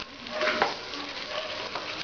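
Bay leaf dropped into hot oil in a pot for home-style polow, sizzling and crackling softly and continuously with faint stirring.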